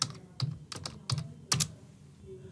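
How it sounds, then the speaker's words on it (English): A computer keyboard is typed in a few quick bursts of sharp, close key clicks with short pauses between them, heard alone in a quiet room. "I'm going to type pabbly.com"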